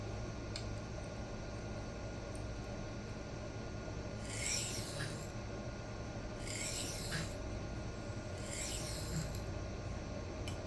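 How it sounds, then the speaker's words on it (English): A Kizer Baby knife with a 154CM steel blade is stroked across an Atoma 140 diamond plate to work off a burr: three separate gritty, rasping passes, close and fairly loud, set over a steady low background hum. "Right now we're just working that burr back and forth."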